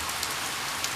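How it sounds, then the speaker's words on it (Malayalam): Steady rain falls on a surface as an even, dense hiss with a few faint droplet ticks, continuous and unbroken for its brief second, with no talking. "നിലക്കാതെ പെയ്തിറങ്ങുന്ന നീളൻ മഴയായി"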